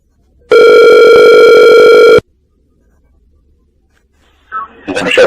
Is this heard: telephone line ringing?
yes